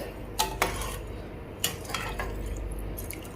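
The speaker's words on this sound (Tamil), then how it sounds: "இதை நல்லா கலந்து விட்டுட்டு" Rice being mixed with water, a spoon of oil and a spoon of salt in a cooking pot, giving a few sharp metallic clinks and scrapes of a spoon against the pot over a low steady background.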